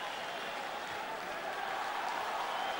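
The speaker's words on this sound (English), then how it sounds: "And the crowd love it," A boxing crowd at a European title fight applauds in a steady, broad wash of clapping and cheering, distant and fairly faint throughout.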